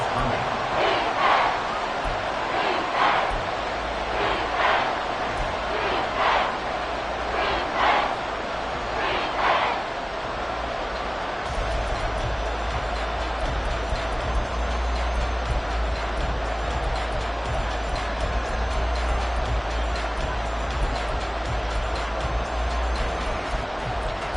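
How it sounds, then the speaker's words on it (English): A stadium crowd cheering in a Madden football video game, a sustained roar with rhythmic chant-like swells in the first half, steady and loud throughout. "This crowd doing all they can."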